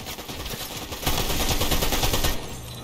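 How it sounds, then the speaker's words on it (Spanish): Rapid automatic gunfire in a shooter video game, a dense, loud burst of shots that swells in the middle and then tapers off. "Ah, que me estás disparando a mí. Me está disparando."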